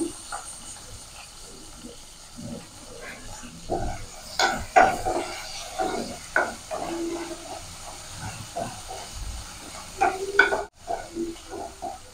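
Ripe red chillies and curry leaves frying in a pan for a broccoli fry, a soft steady sizzle with bursts of stirring and spoon scrapes, plus a few sharp clinks near the end.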